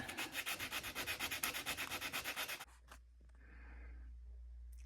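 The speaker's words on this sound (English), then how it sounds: "I cleaned up, sanded out as much of this rust and stuff as I can" Sandpaper rubbing rust off the metal of a Sansui SR-4050c turntable, a steady back-and-forth rasping in quick even strokes that stops abruptly, followed by faint low hum.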